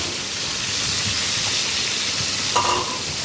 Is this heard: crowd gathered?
no